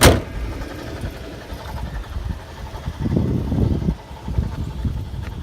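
A 2005 Toyota 4Runner with almost 400,000 miles runs with a low, uneven engine rumble and a faint rattle from underneath, swelling louder midway, after a sharp thump at the start.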